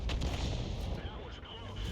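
In a tank video game, an artillery shell fires and lands, producing dense, rumbling, booming noise that fills the two seconds and fades slightly midway.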